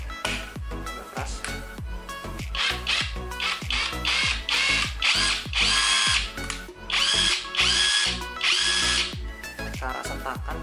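A Modern M65 cordless impact wrench running on a Makita battery, fitted with a socket, hammering in loud rapid bursts of ratcheting impacts that repeat in close pulses, near and without talk.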